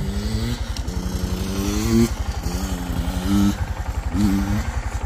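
A motorbike engine revs continuously during riding and jumping, its pitch rising and falling with throttle bursts, fairly close and loud with no talking.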